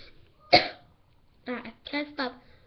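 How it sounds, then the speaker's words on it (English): Several coughs and throat-clearing hacks from one nearby person, a sharp single cough followed after a pause by a cluster of three rougher hacks, with no other sound around them. "I can't stop coughing and hacking"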